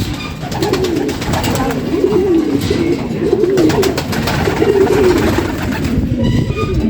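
Large, well-grown pigeon chicks coo loudly and continuously up close, their low burbling calls rolling on without pause.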